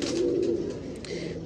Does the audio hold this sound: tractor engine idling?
no